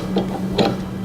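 A small ratcheting wrench turns on a Toyota Corolla 7AFE front wheel bearing nut, giving two quick mechanical clicks close up over a steady low hum.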